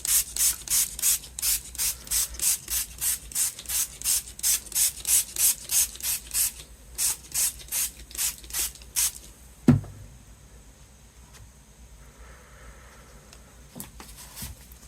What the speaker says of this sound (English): I have my spray bottle and my heat tool just to help it along in the process.